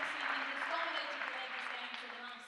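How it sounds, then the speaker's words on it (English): Home-crowd applause for squash player Laura Massaro at the World Tour Finals, a steady wash of clapping heard faintly at a distance, holding level before easing slightly toward the end. "getting a very decent ovation from effectively a home crowd"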